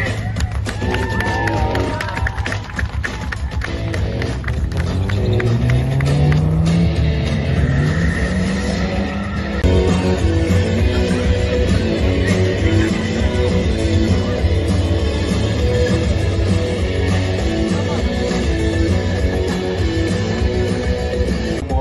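Stunt show cars at Energylandia roar past in formation, engines revving and rising in pitch over a steady crowd murmur, with an announcer's voice carried over a loudspeaker throughout.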